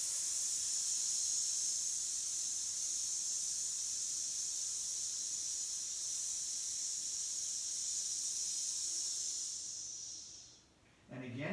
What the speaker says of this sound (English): And then we exhale.